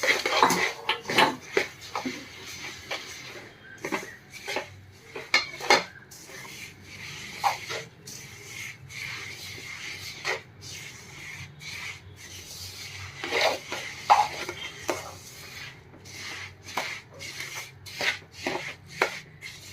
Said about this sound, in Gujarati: આ બધા તલ છે એમાં એડ કરી દેશું મિક્સ કરી લેશું બધું